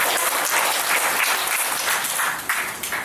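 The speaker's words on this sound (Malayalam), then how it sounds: "ഒരു കയ്യടിയൊക്കെ ആയിക്കോട്ടെ" Guests at a Kerala wedding-eve Madhuram Veppu sweet-giving ceremony break into warm, sustained clapping that fills the room, easing off slightly toward the end with no speech over it.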